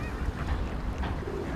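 A duck or goose honks outdoors, a few rough calls close by amid wind buffeting the microphone.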